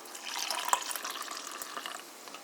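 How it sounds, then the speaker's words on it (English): Water poured into a drink-mix powder to make a French vanilla cappuccino blackberry drink gives a close, gentle splashing and trickling stream that continues steadily throughout, with no talk over it. "you pour in the water"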